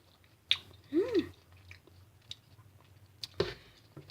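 Close-up chewing and biting on Juicy Drop candy coated in sour sauce, with a few soft crunchy bites and mouth clicks spread across a quiet few seconds.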